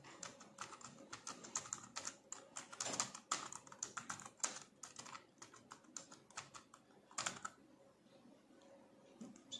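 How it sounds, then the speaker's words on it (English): Typing on a Bluetooth keyboard connected to a Tecno Spark 7 Pro phone, with quiet, irregular clusters of soft key clicks and taps, close by and with no voices. "So Bluetooth keyboard works."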